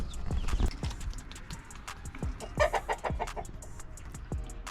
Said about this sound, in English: Hey, little chickens. Gotta check on our chickens.